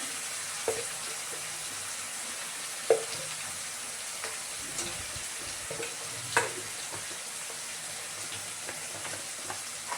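Ginger garlic paste and red chilli frying in a pan, a steady soft sizzle with occasional stirring clicks and scrapes throughout, no talking.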